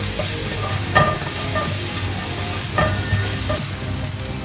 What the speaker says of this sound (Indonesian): Terus kita masukin garlic sama jahe. Kita tumis sebentar